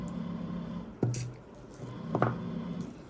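Raw egg drops into a bowl of water for sweet bun dough, giving two soft wet plops about a second apart, close and fairly quiet.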